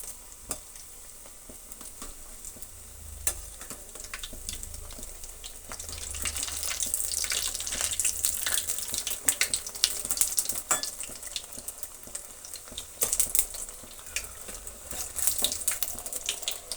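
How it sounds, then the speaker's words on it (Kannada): Bread slices deep fry in hot oil, a constant bubbling sizzle with crackling bursts and occasional scraping stirs, close and moderately loud, growing busier toward the middle. "ಚೆನ್ನಾಗಿ ಹೊಂಬನ್ನು ಬರೋ ತನಕ ಡೀಪ್ ಫ್ರೈ ಮಾಡ್ಕೋಬೇಕಾಗತ್ತೆ"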